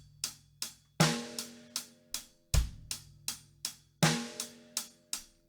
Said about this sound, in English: So our first groove there is the classic sort of rock groove with the bass drum on 1 and 3,